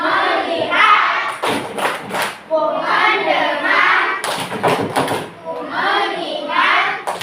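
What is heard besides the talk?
rhythmic clapping in a classroom clap routine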